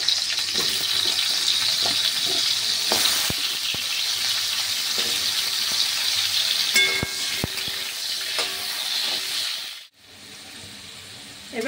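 Diced potatoes frying in hot oil for a Bengali thor ghonto mixed vegetable curry, giving a steady loud sizzle with a few sharp utensil clicks. The frying breaks off abruptly near the end, then resumes softly.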